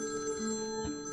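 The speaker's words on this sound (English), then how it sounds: "Immediately afterward, the home phone started to ring" A home telephone rings steadily, with a clear electronic bell tone sounding alone at moderate volume.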